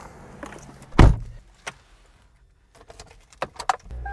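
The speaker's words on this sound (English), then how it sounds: "If I can operate the door okay" A car door is handled and opened, with a sharp loud clunk of the latch followed by softer clicks, rattles and a thud, then quiet handling noises close by.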